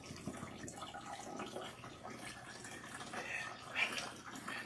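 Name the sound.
water rinsing shampoo out of hair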